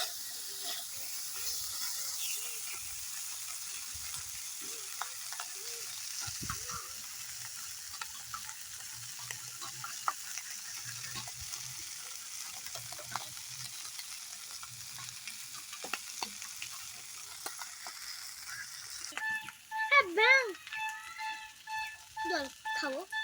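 Crab curry masala sautés in a pan with a steady, faint frying sizzle and hiss, and a spoon stirs now and then. Near the end it gets louder with scraping and a brief burst of bubbling.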